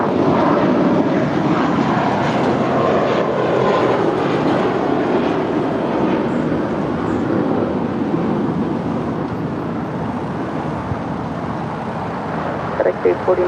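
Jet airliner engines roar steadily at LAX during a Spirit takeoff, a loud, continuous broadband rumble that holds throughout with little change, close and dominant, with faint radio-like chatter underneath.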